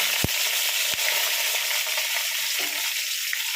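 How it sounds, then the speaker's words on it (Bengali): Long strips of pointed gourd (potol) frying in hot oil left over from frying fish, giving a dense, continuous, loud sizzle with a couple of sharp knocks from a utensil near the start. "এটাকে এবার লাল লাল করে ভেজে নেব"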